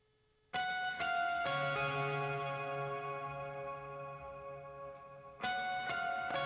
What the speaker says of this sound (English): here's with 6 seconds of delay on it, or reverb on it.